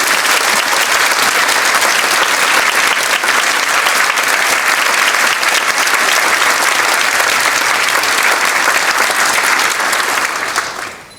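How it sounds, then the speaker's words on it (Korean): Loud, sustained applause from a large church assembly at an inauguration ceremony in Daejeon, steady for about ten seconds before tapering off at the end. "뜨거운 박수로 듣겠습니다."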